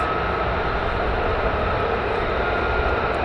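Loud, steady jet roar from fighter aircraft taking off at RAF Lakenheath, a broad continuous rumble that holds level throughout with no break.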